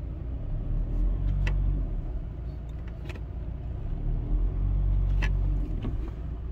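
A 2016 Seat Alhambra engine revs as the accelerator is pressed during a brake-fluid service, a close, steady low rumble that swells twice with light clicks over it and no talk.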